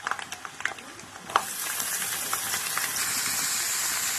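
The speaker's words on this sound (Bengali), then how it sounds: "নারকেলটা এরকম লাল লাল ভাজা হয়ে গেলে দিয়ে দিতে হবে এর মধ্যে সবজিগুলো" Chopped coconut and vegetables fry in hot oil. A few stirring clicks at the start give way to a loud, steady sizzle that keeps rising and fills the rest of the clip.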